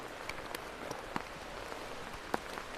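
Rain falls steadily outdoors at a palace in Chraplewo, Poland, a soft continuous patter with a few sharper drops hitting nearby surfaces, no voices.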